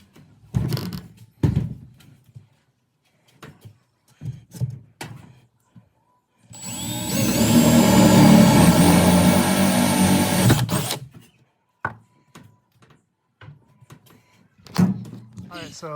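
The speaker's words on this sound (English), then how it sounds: "I'm gonna just drill a hole through" A power drill bores a 4-inch hole through a house wall, a loud steady whine with rising pitch lasting about four seconds, bracketed by clunks, taps and brief talk before and after.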